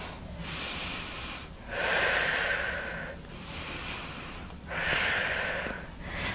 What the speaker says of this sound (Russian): И начинаем максимально глубоко дышать, просто расслабляем наш организм.